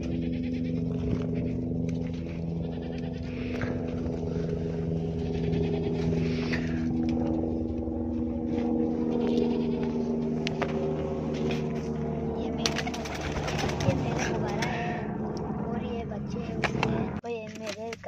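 Goats bleat repeatedly in a home yard among kept birds and poultry, with drawn-out cries over steady background noise and someone talking through much of it.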